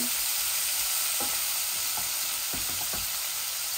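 Rohu fish frying in a pan, a steady loud sizzle running throughout with a few brief stirring scrapes and pops.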